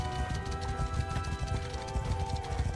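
Hoofbeats of horses riding on in the video game Mount & Blade II: Bannerlord, a steady, dense clip-clop of several galloping horses at moderate volume over a held musical drone, with no talk.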